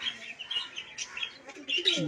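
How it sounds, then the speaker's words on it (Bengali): Small birds chirp in quick, scattered bursts at a zoo-like park enclosure in West Bengal, fairly close and moderately loud, with faint voices in the background. "ছোট্ট ছোট্ট পাখি"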